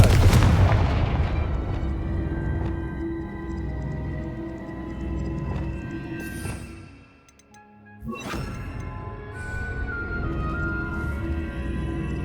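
A Confringo spell explosion in the video game Hogwarts Legacy: a loud, close, sharp blast at the start rolls into sustained rumbling and crackling game noise, then falls briefly quiet before a second sharp hit near the end.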